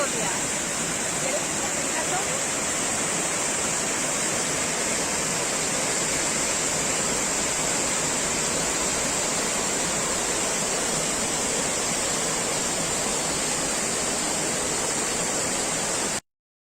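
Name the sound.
Velo de Novia waterfall in Mexico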